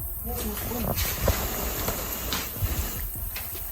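Oreos frying in hot oil give a steady, dense sizzle and hiss throughout, with small pops and crackles scattered over the bubbling.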